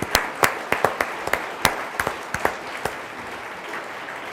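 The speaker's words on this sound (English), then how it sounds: "let's give a round of applause to Mark Learn" A modest audience at a public service awards ceremony gives a short round of applause, a few distinct claps standing out and tapering off.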